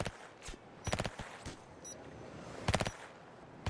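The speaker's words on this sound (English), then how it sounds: "There goes the flashbang." A flashbang grenade sounds off in a police SWAT video game, heard as a series of sharp, rapid bursts with a pair of loud crackling clusters and scattered thuds over a low background.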